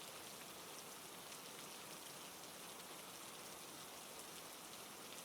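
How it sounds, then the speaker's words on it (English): Heavy rain pours down on a forest canopy, a dense, even hiss of countless drops that holds steady and fairly faint throughout. "Listen to it pouring down. Thousands of drops hitting the roof of the forest, washing the world clean."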